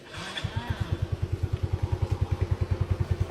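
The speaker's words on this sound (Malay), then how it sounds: "Okey, jom kita dengar dia punya enjin." A 2017 Yamaha Ego Avantiz 125 motorcycle engine starts and settles into a steady, rhythmic idle, close up, its low thumping pulses repeating evenly without voices.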